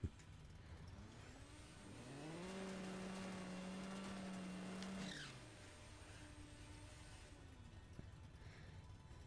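Camaro engine in a No Limit 2 drag race against a Lamborghini, revving up to a loud, sustained high-rpm drone for a few seconds, then dropping back to a lower idle-like hum.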